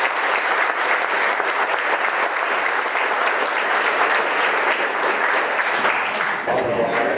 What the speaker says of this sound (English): Let's give another nice round of applause for Theron and Becky.